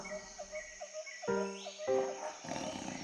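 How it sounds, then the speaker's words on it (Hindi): A tiger in an animated Hindi children's moral story gives a loud, close roar that swells and sustains over ambient crickets and birds, with a second burst following. "कुछ समय बाद एक बाघ गरजते हुए उस तरफ आ गया।"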